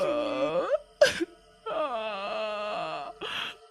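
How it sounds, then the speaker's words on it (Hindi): A woman wails and sobs in long drawn-out moaning cries broken by sharp gasping breaths, close and mournful, in a haunting ghost-story setting. "मुझे अचानक किसी औरत के रोने की आवाज सुनाई पड़ रही थी"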